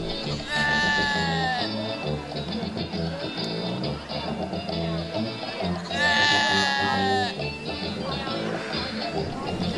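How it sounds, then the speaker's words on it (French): Sheep in the Dutch meadows bleat twice, a wavering cry near the start and another about six seconds in, both set against a dense, continuous layer of other sound. "les animaux, comme les moutons, sont partout."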